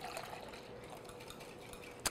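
Milk poured into waffle batter in a bowl, a soft steady liquid trickle and splash lasting about two seconds, close and fairly quiet, with a brief sharper knock at the end.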